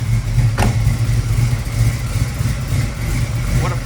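A 1966 Chevy Nova with a built small-block V8, 4-speed and headers idles close by in a steady, lumpy low rumble, with a possible exhaust leak on the right side and a couple of faint clicks over it.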